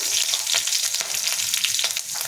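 Radhuni seeds, green chili and garlic crackle and sizzle in hot oil while tempering masoor dal with vegetables, a close, steady hiss with small popping bursts and no talk.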